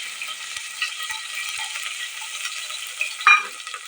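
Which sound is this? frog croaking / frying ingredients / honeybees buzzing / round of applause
frying ingredients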